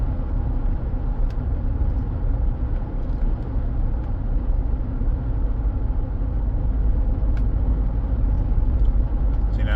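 A 2015 Chevrolet Silverado engine running rough while it shakes the truck, heard as a steady, loud low rumble with continuous vibration throughout.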